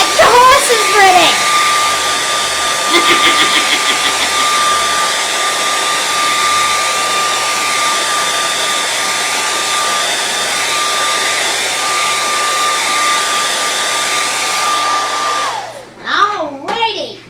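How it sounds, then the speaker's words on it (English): A hair dryer drying a coat of red paint blows with a steady high whine and rushing air for about fifteen seconds, close and loud, then cuts off abruptly near the end. "I took my hairdryer and I dried off my first coat of red"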